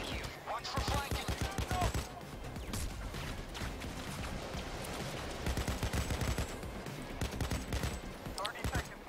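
AK assault rifle fire in the game Payday, long bursts of rapid automatic shots crackling nearly nonstop, loud and close, mixed with other gunfire and a voice talking over it.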